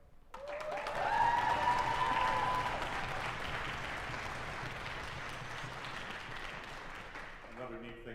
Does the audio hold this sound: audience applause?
yes